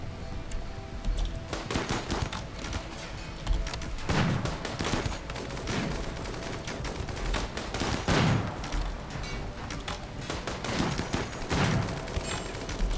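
Sustained gunfire in a RimWorld battle, dense overlapping shots and rapid bursts rattling continuously for the whole stretch, loud and steady with no pauses.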